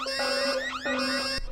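A home alarm blares electronic sirens, loud rising and falling tonal wails with sweeping chirps repeating twice before cutting off abruptly.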